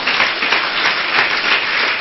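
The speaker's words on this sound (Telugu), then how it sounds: "గట్టిగా చప్పట్లు కొడదాం." An audience claps loudly and steadily for two seconds, a dense, continuous wash of applause with no voices over it.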